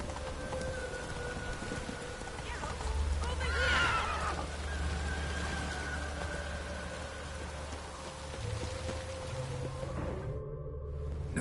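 Roach the horse in The Witcher game whinnies around the middle, with faint hoof clops and a rain-like hiss underneath a steady music bed.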